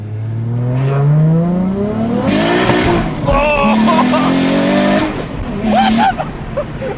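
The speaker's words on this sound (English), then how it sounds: "the screamer pipe is so loud" A Toyota Chaser with a 1JZ engine and screamer pipe revs hard and accelerates, its loud exhaust note climbing in pitch across several gear pulls, close by, with voices talking over it.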